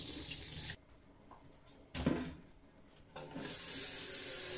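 Cold tap water pours into a kitchen sink while chicken is prepared in a restaurant, a steady loud rush that cuts off twice, briefly resuming in between, then runs again for the last stretch.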